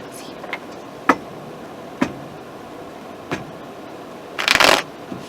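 Tarot clarifier cards are handled and shuffled during a reading: several separate soft taps and flicks, then a brief louder riffling burst near the end, close up with no talk.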